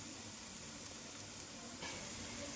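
Ivy gourd (dondakaya) pieces frying in a pan, a soft continuous hiss and sizzle with a slight lift in intensity near the end, no voices.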